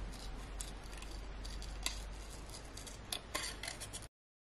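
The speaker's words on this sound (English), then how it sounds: "The next thing we're going to do is we're going to cut out the silhouette" Scissors snipping through paper to cut out a small girl's silhouette for a handmade mini envelope tag, giving soft, irregular close-up snips and crisp ticks over a quiet background hiss.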